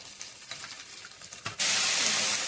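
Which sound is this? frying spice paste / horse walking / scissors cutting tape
frying spice paste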